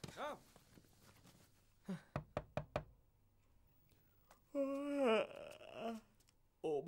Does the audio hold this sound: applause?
no